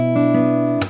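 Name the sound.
slap on a guitar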